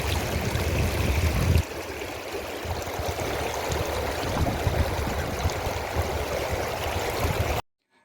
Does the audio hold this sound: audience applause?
no